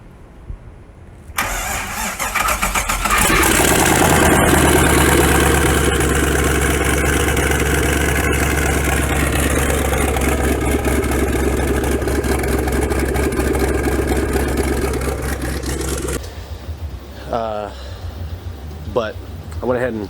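A turbocharged 6.0 LS engine in a Nissan 240SX fires for its first start, catching after a brief crank and running loud and close for about fifteen seconds before shutting off, followed by a person talking.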